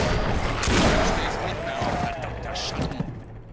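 Gunfire in the video game Risen 3: Titan Lords, a cluster of sharp shots and impacts amid busy in-game effects, with someone talking over it throughout.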